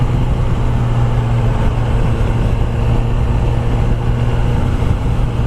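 A Kawasaki ZX10R 1000cc race bike on a test ride gives a loud, constant engine drone with a steady low hum and wind rush, unbroken and close throughout.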